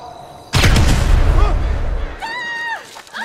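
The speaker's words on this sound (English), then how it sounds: "we're going to use these sticky grenades" A sticky grenade blast in GTA V, a sudden loud boom with a rumbling tail lasting over a second, followed by a rising and falling electronic game tone.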